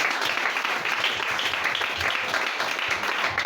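Congregation at a church seminar breaking into steady, dense clapping and cheering that fills the room throughout, with a few voices mixed in.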